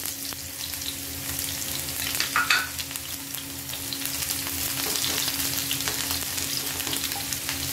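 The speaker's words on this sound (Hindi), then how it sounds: "इसमें हमने जो एक छोटा प्याज काटा हुआ था बारीक वो डाल देते हैं" Finely chopped onion fries in hot ghee in a pan for a dhaba-style urad and chana dal, giving a steady close sizzle with occasional stirring scrapes and no voices.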